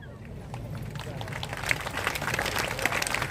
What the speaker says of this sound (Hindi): आप लोगों ने भी तालियां बजाई